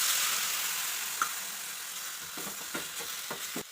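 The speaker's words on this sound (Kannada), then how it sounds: "ಇವಾಗ ಇದಕ್ಕೆ ಹಾಲನ್ನು ಹಾಕೋತೀವಿ." Dry coconut fries in a pan for burfi, hissing in a steady close sizzle that softens slightly over time, with a few soft stirring taps near the end.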